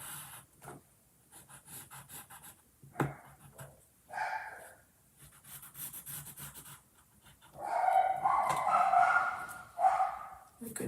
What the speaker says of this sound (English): the doggies are barking